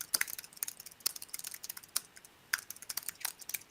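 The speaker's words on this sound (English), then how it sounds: "Sorry for the typing." Computer keyboard typing during an online library lunchtime webinar, with dense irregular bursts of crisp key clicks running steadily throughout, fairly close but quiet, with no voices.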